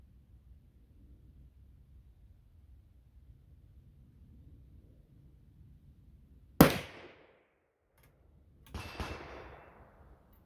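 A Remington #2 sporting rifle in .25-25 Stevens fires one sharp, loud shot that rings and decays. A quieter clatter follows a couple of seconds later, apparently the action being worked, against a faint low background hum.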